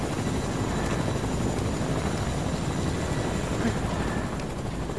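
Helicopter in the Fortnite video game, a loud, constant rotor and engine drone filling the whole moment without breaks.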